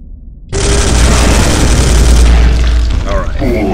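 Heavy gunfire in the Space Hulk game (2013) booms as one loud, sustained burst of shots that tails off with a short trailing sound.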